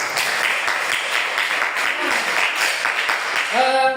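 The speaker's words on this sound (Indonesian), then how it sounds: "tepuk tangan untuk Dewi dulu" A classroom of students claps for a classmate named Dewi, a brisk scattered patter of small hands lasting a few seconds, ending as a voice starts to speak.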